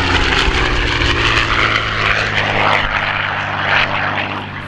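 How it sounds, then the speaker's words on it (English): A P-51 Mustang propeller plane making a photo pass at the Selfridge air show, its loud, throaty piston engine roaring steadily and close throughout with a slight fade near the end. "The photo pass for the P-51."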